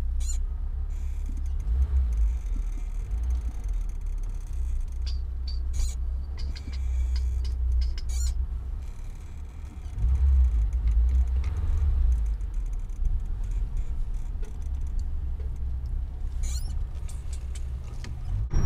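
A VAZ 2107 car driving along, with a steady low engine and road rumble that swells briefly partway through, plus faint ticking and rattles inside the cabin.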